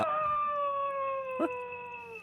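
A dog howls in an old 1959 science-fiction film soundtrack, one long sustained wavering cry holding steady for about two seconds, fairly loud with a brief sharp noise partway through.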